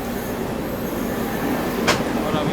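The Ayodhya Cantt–Anand Vihar Vande Bharat express train passes near a station with a steady rolling rumble and rush of air, plus a brief sharp hiss near the end, no voices.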